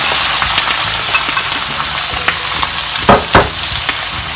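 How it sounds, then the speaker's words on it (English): Onions, sweet peppers and zucchini fry in hot oil for smoked herring fried rice, giving a steady, loud, close sizzle with a couple of sharp stirring clatters near the end. "oil is ready again, and now I'm gonna do the vegetables."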